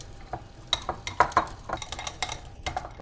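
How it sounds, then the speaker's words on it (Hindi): Whisking peri peri masala marinade with hung curd in a bowl, with quiet, irregular clinks and scraping taps of a whisk against the bowl, close and fairly soft. "अब अच्छी तरह से विस्क कर लेंगे।"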